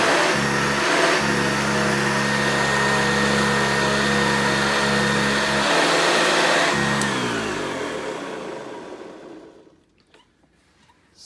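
A Hoover Convertible U4127 upright vacuum cleaner runs loud and close with a steady motor drone for about eight seconds, then winds down and fades to near silence.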